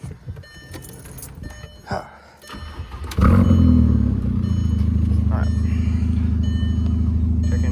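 Volkswagen Jetta mk4 with a 1.8T engine after a knock sensor replacement, keys jangle and a brief word is spoken, then the engine cranks, catches loudly and settles into a steady idle close by.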